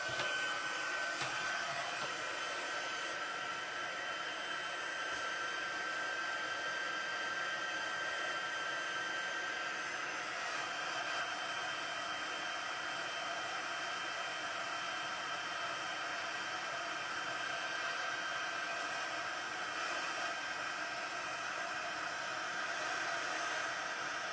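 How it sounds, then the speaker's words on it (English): An embossing heat gun blows hot air over a card surface, a steady broadband whoosh with a faint high whine that runs continuously and fairly close, alone without talk. "It would help if my heat tool was plugged in."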